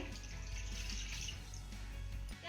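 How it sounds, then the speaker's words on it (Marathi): Water pours steadily into a kadhai with a continuous rushing splash, fairly close, ending abruptly. "कढईमध्ये मी एक ग्लास पाणी घालतेय"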